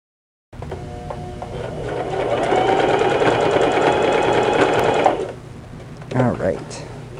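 A sewing machine runs steadily for about five seconds, stitching and backstitching the seam of a cloth napkin, with a soft mechanical clatter close by, then stops; a brief rustle of fabric handling follows.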